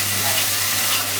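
Tomato paste hitting a hot pan with oil while cooking okra with prawns, giving a steady, close, broadband sizzle and crackle that holds evenly throughout, with no talk over it.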